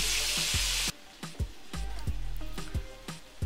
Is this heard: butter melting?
yes